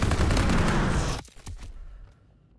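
Dense, loud gunfire from a World War II battle in Call of Duty: WWII, a rapid continuous volley that cuts off sharply, followed by a few scattered fainter shots and echoing tail.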